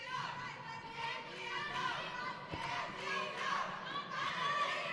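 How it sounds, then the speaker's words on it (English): A crowd at an amateur boxing tournament in North Platte, Nebraska, cheers and shouts in rolling waves, with mixed voices and calls carrying over a busy arena hum. "Listen to this crowd."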